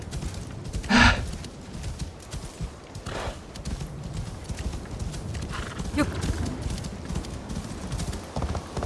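Hooves pound in a fast continuous gallop under a busy game soundscape, with a couple of louder impacts standing out.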